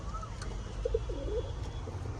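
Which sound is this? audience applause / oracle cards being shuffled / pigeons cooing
pigeons cooing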